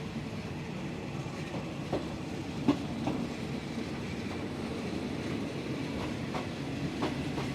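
A Thai passenger train running from Hat Yai to Phatthalung rattles along the tracks with steady clickety-clack rhythm and occasional sharper knocks, a continuous rumbling ride heard from inside the carriage.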